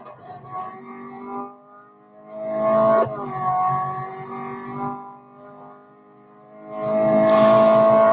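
Race car engine in the video game Real Racing 3, a steady droning whine that rises and falls through a corner, with a brief rough scrape of light skidding around the middle and loudening again at the end.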